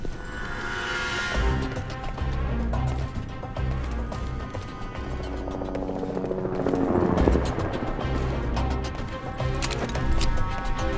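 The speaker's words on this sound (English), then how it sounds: "I just picked up a helicopter approaching on satellite." Helicopter approaching in the video game Alpha Protocol, a steady rotor drone growing slightly louder across the stretch beneath a dense layer of game music and effects.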